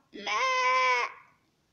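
A single sheep bleat, a long wavering harmonic cry lasting about a second, loud and close, with no talk over it.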